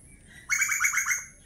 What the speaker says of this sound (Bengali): চারিদিকে কিন্তু পাখি ডাকছে, শুনুন।